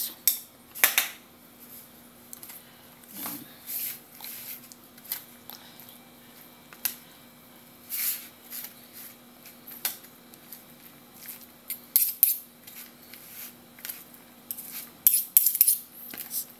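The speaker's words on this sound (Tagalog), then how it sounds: "Sasaidin natin yung nasa lalagyan." A utensil scraping mayonnaise out of its container: intermittent close scrapes and clinks of metal on plastic in short bursts, spaced irregularly over a quiet hum.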